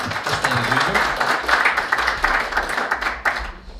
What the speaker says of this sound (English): I'm going to give Andrew a clap.